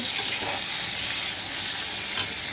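Pointed gourd frying in hot oil gives a dense, continuous close sizzle throughout, with a faint clink near the end and no talking.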